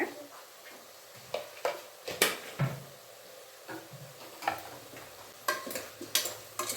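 A spoon stirs mushroom gravy masala in a frying pan, giving irregular scraping clicks and taps over a soft sizzle, close and moderately loud.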